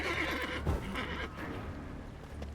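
A horse in The Witcher 3: Wild Hunt gives a single close, clear whinny with a shaky descending tone, joined by faint hoof clops over a low ambient game hum.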